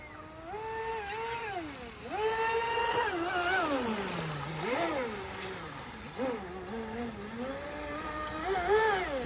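ProBoat RC boat running at full throttle, a thin, high-pitched electric whine that climbs and dips in pitch over several passes, moderately distant and fairly faint, with no talking.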